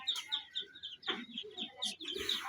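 Chicks and hens in a fenced backyard pen, a mix of high peeping chirps and low clucks close by, with irregular bursts of calls overlapping throughout.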